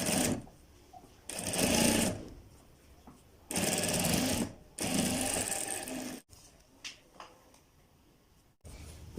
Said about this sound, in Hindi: अब इनको हम डबल सिलाई कर लेते हैं ताकि हमारी इनके अंदर मजबूती आ जाए।